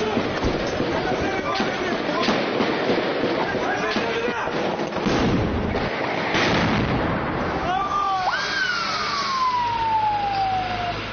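A gunfight and bomb blast during a clash between security forces and terrorists in Hatay brings heavy, booming bursts and rumbling impacts, followed by rising and falling siren wails, all loud and chaotic with voices mixed in.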